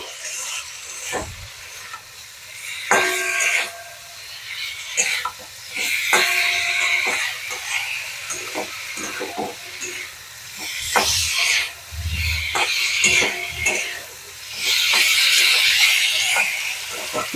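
Water poured into a hot pan of tomatoes while a fish curry cooks, giving bursts of loud hissing sizzle that surge and fade several times, with a few clanks of utensils and no talk.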